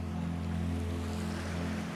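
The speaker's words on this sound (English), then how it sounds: "Little bridge there, little waterfall." A small waterfall tumbles beside a little bridge on the Pembrokeshire coast, giving a steady low rushing wash, close and continuous with no voices.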